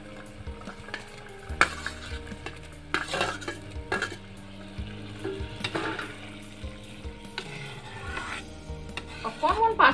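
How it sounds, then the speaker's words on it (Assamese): Small puthi fish go into a simmering curry with Indian gooseberry in a pot, followed by scraping stirs, clinks of a spoon against metal and a soft bubbling sizzle. "মাছখিনি এতিয়া ঢালি দিওঁ আৰু।"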